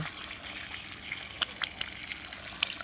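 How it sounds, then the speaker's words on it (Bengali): Water gushes and trickles steadily at the base of garden plants such as chilli, bean and eggplant, a soft outdoor splashing with a few sharper splatters, faint and close. "গাছের গোড়ায় জল দেওয়া হচ্ছে।"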